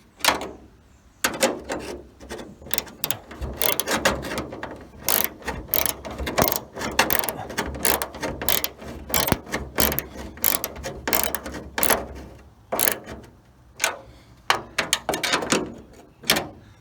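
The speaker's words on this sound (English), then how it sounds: "They're pretty tight. I'm going to really torque them down." A ratchet tightens bolts holding stainless steel trim on a 1966 Dodge Dart GT barn find. Quick bursts of close, loud clicking repeat with brief pauses between them, and no one speaks.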